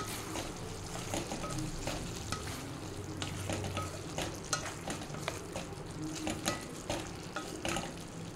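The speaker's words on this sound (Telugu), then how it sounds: "ఒక టీ స్పూన్ గరం మసాలా పొడి వేసి బాగా కలపాలి" Chicken fry being stirred in a pan with coriander-cumin powder and garam masala: a continuous soft sizzle under frequent scraping stirs, fairly quiet and close.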